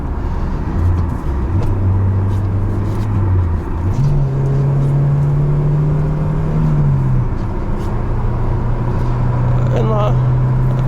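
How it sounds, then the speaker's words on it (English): Peugeot 406 with the 138 hp EW10J4 petrol engine and manual gearbox cruising in fourth gear at about 70 km/h, a loud steady engine drone with a low hum that steps up in pitch, heard from inside the cabin. "I'm already at about 70 kilometers per hour, and it's very noisy on gear 4"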